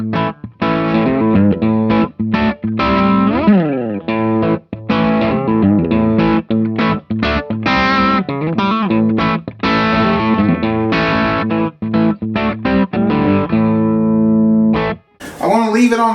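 Electric guitar on its bridge rail pickup played through a Fender Bassbreaker 15 amp, distorted and sustained, with chords, bends and single notes ringing in a busy run, a brief pause, then a sharp final burst.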